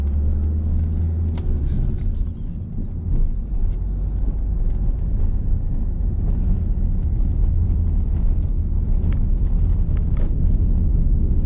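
A car engine accelerating during a driving lesson, a loud, steady low rumble with brief dips where the gear shifts into second, with no voices over it.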